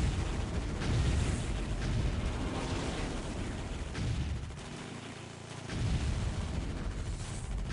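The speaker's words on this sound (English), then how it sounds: "Have a huge explosion from the Eldritch Spire." Huge explosion from the Eldritch Spire in the Dawn of War Ultimate Apocalypse video game, a dense roaring rumble of blasts and battle fire that runs continuously and loudly throughout, briefly easing midway before surging again.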